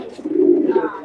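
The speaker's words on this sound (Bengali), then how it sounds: "মাশাআল্লাহ চমৎকার একটা কবুতর দেখতে পাচ্ছি ভাই, লালদম কবুতর ভাই" A single Lal Dom pigeon gives a short, low, rounded coo, close and fairly loud, rising to a sustained middle and tapering off within about a second.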